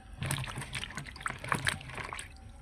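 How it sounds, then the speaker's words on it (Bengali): Eggplant is washed under running water, with soft trickling and splashing that is faint and close and ends after a few seconds. "এখন বেগুনটা ভালোভাবে ধুয়ে নেব।"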